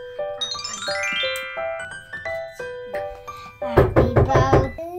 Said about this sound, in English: people don't miss the bell